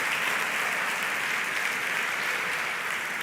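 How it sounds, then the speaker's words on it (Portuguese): A church congregation claps together in sustained, dense applause, loud and even throughout with no talking over it. "Você pode dar uma salva de palmas ao Senhor Jesus por aquilo que Ele fez por nós"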